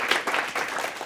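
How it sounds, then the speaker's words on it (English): Brief burst of audience applause after a talk at a design event, a short wash of clapping from a modest crowd that holds at a moderate level throughout. "So just a brilliant talk and another round of applause."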